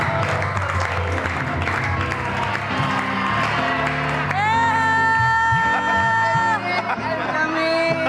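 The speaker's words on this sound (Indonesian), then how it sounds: "Ini dia tepuk tangan buat Aga." A studio audience claps and cheers for a guest, with whoops and shouts rising through a steady ovation, mixed with a loud musical sting and some talk.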